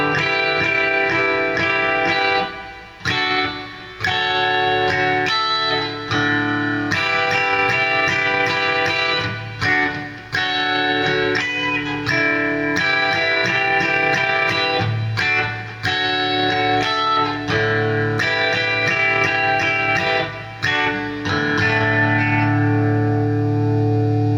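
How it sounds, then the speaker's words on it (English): A distorted electric guitar, a 1995 Rickenbacker 330 played with the back of a fingernail, plays a fast, continuous run of notes with chorus and echo, loud and steady without pause. "I use the back of my fingernail on my index finger to play this part"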